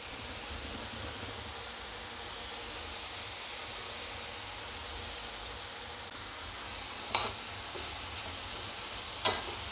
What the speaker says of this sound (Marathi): अगदी हाय फ्लेमवर याला आपण तळलं ना तर हे लगेच होतात